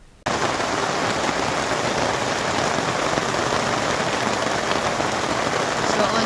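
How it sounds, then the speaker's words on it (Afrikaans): Heavy downpour hammering down steadily after a brief quiet start, a dense, loud, unbroken hiss of rain with no voices heard. "En toe begin dit reën, soos stortreën."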